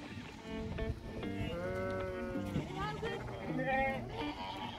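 A flock of adult sheep and lambs bleats continuously near a shedding race on a farm, many overlapping bleats of different pitches over a steady background din.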